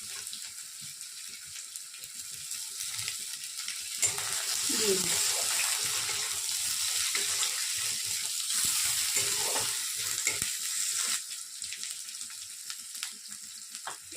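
Ginger and capsicum fry in a pan for masala egg pasta, giving a steady sizzle that swells louder midway and then eases back. A voice speaks briefly over the cooking.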